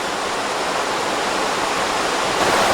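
North Kill Creek water rushes past a dam along the old Union Canal, a steady, loud, broadband roar without voices.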